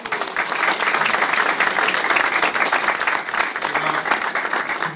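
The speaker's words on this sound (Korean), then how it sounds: "두 분께도 박수 좀 드려야 되지 않을까요?" Warm, dense applause from a crowd at a Korean election campaign office opening, steady clapping filling the room with no talk over it.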